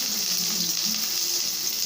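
Two large chopped onions frying in two spoons of oil for a potato vegetable kurma, a steady, dense sizzle lasting throughout, close and fairly loud with no voices over it.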